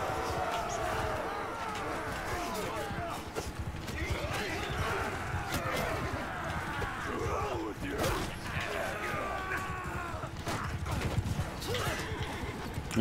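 Heavy cataphract cavalry in the Mount and Blade 2 Bannerlord battle, with dense hoofbeats, whinnies and clashing metal forming a busy, continuous din that fills the whole span.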